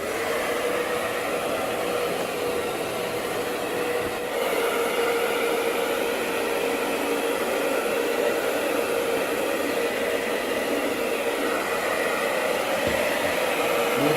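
A heat gun blows steadily and loudly on a fog lamp lens to soften the glue, a continuous close rushing hiss with no breaks.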